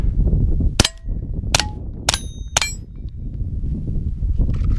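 Four sharp suppressed pistol shots from an FN 502 Tactical .22 fitted with an OSS RAD22 suppressor, fired outdoors at about ten yards, evenly spaced and crisp over steady background noise.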